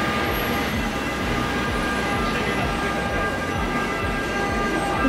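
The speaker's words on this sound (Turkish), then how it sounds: "Buranın treni inanılmaz eski." An old train runs through Rome with a loud, steady rumble and a regular rhythm of wheel clatter, heard close by and continuously.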